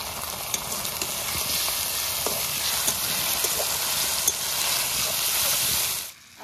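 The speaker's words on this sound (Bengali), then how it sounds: "আদা রসুনটা ভাজা হয়ে গেছে" Ginger garlic paste with chopped green chillies frying among onions in a pan, a continuous close sizzle with scattered pops and stirring clicks, dropping away near the end.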